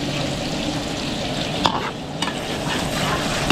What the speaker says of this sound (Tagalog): papapulayin po muna yung bawang sibuyas